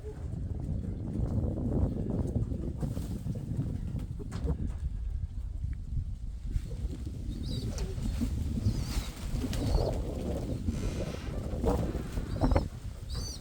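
Domestic pigeons kept in a pigeon loft, some with clipped wings, walking about underfoot and cooing steadily, with soft low coos and shuffling movement running through the whole stretch and no talking.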